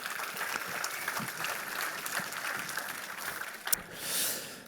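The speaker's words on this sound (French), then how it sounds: "je vous demande de l'applaudir, s'il vous plaît" Audience applause at an EPFL 50th-anniversary event for Raymond Clavel, inventor of the Delta robot: steady, moderately faint clapping from a hall crowd, with a brief sharper burst near the end.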